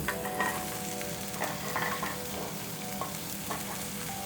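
Broccolini frying in browning butter crackles and sizzles steadily up close, with intermittent stirring scrapes and soft clinks over the continuous hiss.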